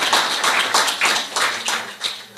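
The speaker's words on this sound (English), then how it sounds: "Round of applause for Martina." Conference audience giving a round of applause for an organiser, a dense burst of many hands clapping in an indoor hall, with rhythmic swells that fade out after about two seconds.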